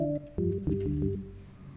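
A few short, plain notes from the 3x Oscillator synth plugin's default tone in a quick melodic phrase, soft and buzzy with simple harmonics, played alone.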